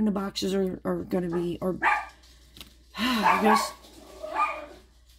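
Pet dogs bark indoors in a home, several sharp barks in a quick burst near the start and a louder yappy flurry later, close by, while a person keeps talking over and between them.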